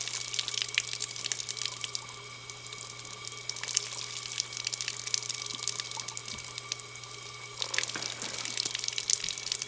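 Water runs steadily from an outdoor well spout fed by a well pump, a continuous close hiss and splash with a faint hum underneath and no talking.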